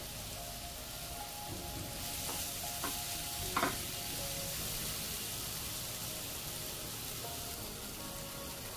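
Tomato chutney with coriander is mixed in a pan over a low, steady sizzle, with a few soft scraping strokes of the spoon partway through, quiet and close.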